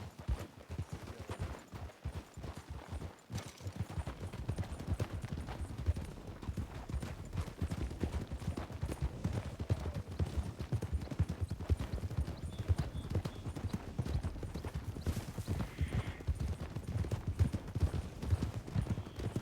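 Horse hooves clip-clop in a steady, fast rhythm from a horse ridden through a western video game near Blackwater, loud and continuous with some background rumble.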